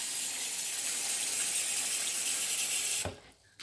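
Cold water runs hard from a kitchen tap for a few seconds, filling a container for rinsing potatoes, a loud, steady gush close by that cuts off abruptly into near silence.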